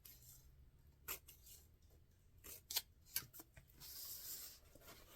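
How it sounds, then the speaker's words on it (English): Scissors snip through book pages during book folding, a few faint, brief crisp cuts amid quiet paper rustling, close but soft. "I absolutely love these scissors."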